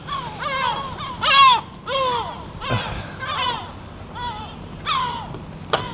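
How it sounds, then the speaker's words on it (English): Seagulls call repeatedly outdoors in Alicante, Spain, defending a nest against a drone: harsh, sharp squawks in an irregular series, some near and loud, others farther off, over a steady low hum. "Naughty seagulls."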